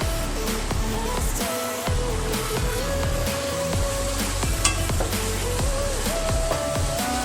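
Chopped green chillies frying with chicken keema in a pan, a steady loud sizzle broken by repeated scraping stirs throughout, with no talking.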